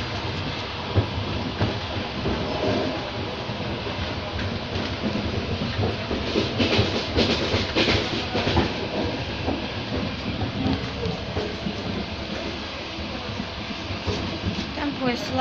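A train rolls along with a continuous rumble and faint rhythmic clatter, heard from inside a carriage, with a voice speaking softly over it.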